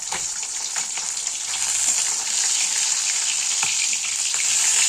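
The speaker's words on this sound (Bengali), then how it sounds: "কড়াইয়ের মধ্যে তেল গরম করে প্রত্যেকটা মাছ আমি বেশ লাল লাল করে ভেজে নেব" Pieces of rohu fish sizzle steadily in hot oil in a wok, a continuous bright frying hiss heard close up with no talking.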